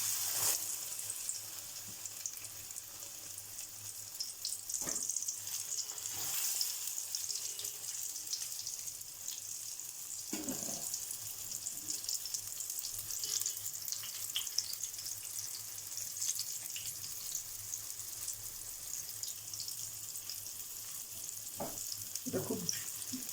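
Cornflour-coated eggplant pieces fry in hot oil in a small kadai, giving a steady, soft crackling sizzle that runs throughout, with a few brief louder bursts as pieces shift.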